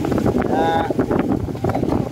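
A boat out at sea rides through wind that buffets the microphone in uneven gusts. Churning water and hull noise sit underneath, with faint voices mixed in.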